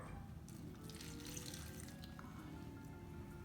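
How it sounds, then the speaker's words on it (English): Water runs steadily from a tap into a blender of chili sauce, a continuous close splashing hiss with no talk. "So I'm gonna try to put some water as we blend this thing thoroughly"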